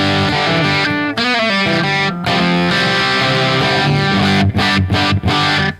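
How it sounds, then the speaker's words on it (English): Loud, heavily distorted electric guitar through a tube amp running on low voltage, about 2.7 watts, plays sustained chords and riffs with a gritty, saturated tone and brief choppy stops near the end. "Whenever you drop the voltage on an amp, the distortion changes and the feel changes."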